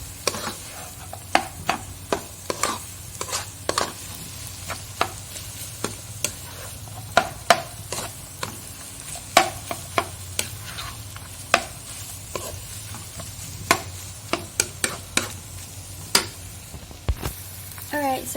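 Pasta-and-chili mixture stirred in a frying pan for macaroni goreng, with repeated sharp scraping strokes of a utensil against the pan over a steady sizzle, close and fairly loud.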